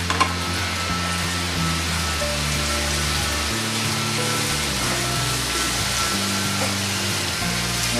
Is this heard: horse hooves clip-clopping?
no